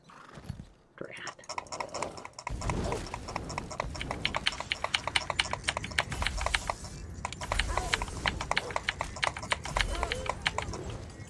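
Rhythmic clip-clop of a horse's hooves in Elder Scrolls Online, steady galloping beats running through most of the clip with a voice talking over them.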